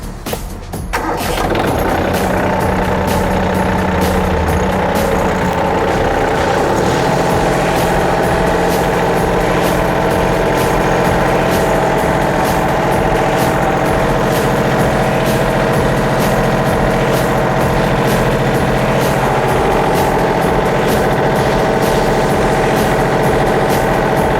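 A Yanmar F-190 mini tractor's three-cylinder 19-horsepower diesel engine cranks and starts, then settles into a steady, loud idle with a rhythmic chugging, running continuously close by.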